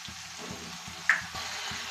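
A spice paste fries softly in a pan for eggplant bharta, giving a faint low sizzle with regular soft stirring knocks and one brief sharp click.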